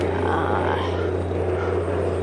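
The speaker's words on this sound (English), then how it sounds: "Usually the little planes are well up there by the time they go over this house." A small propeller airplane flies low over a house with a backyard pumpkin patch, its engine droning steadily and loudly throughout with no break.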